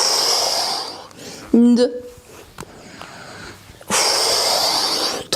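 Long, breathy inhalations during a yoga exercise, one audible intake at the start and another toward the end, with a brief spoken count between them.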